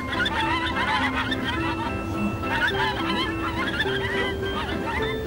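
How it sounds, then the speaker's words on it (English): A duck calls repeatedly in a busy outdoor setting, honking quacks overlapping one another alongside other fowl noise, moderately loud and continuous. "Oh, it's a duck."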